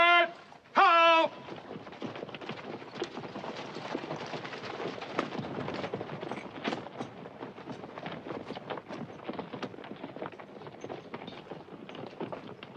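Cavalry horses led at a walk from a corral, with a steady, fairly quiet clip-clop of hooves continuing after a brief shouted voice at the start.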